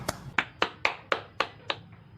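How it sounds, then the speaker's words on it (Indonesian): Classroom applause for a student named Ani: about seven crisp, evenly spaced claps over two seconds, fairly close, with no talking. "Ayo berikan tepuk tangan untuk Ani."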